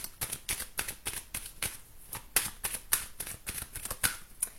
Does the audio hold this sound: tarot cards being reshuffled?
yes